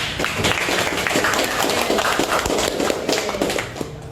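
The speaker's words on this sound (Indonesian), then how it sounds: "Kasih aplaus dulu Kak Gea" Crowd applause for Kak Gea Almadira, announced as first place at a UKIN daljab 2023 ranking event: steady, dense clapping that fills the whole stretch without a break.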